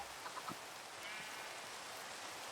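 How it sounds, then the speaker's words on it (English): Minecraft rain falls as a soft, steady broadband patter that stays faint and even throughout, broken only by a couple of brief tones near the start, with no talking. "Hey, it's raining."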